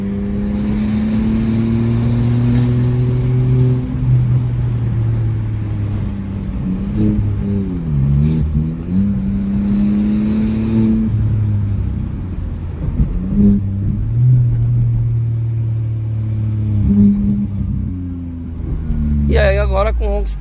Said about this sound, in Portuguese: E aí, agora com o ronco esportivo.